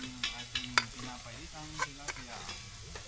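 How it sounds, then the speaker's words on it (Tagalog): Softened bony chicken pieces being sautéed in a pan, with quick scraping stirs and brief clatters over a low steady sizzle and hum. "Igisa na po natin."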